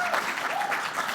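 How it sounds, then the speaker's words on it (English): Audience applause at a national Landcare conference, a steady wash of clapping from a crowd that runs throughout, with a voice briefly heard over it. "So give them a big clap for that"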